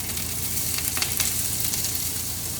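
Sliced onion frying in a hot kadhai with urad dal, green chillies and curry leaves: a loud, continuous sizzle with scattered bright crackles, steady throughout with no pause.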